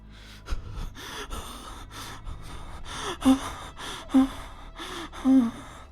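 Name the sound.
heavy panting breaths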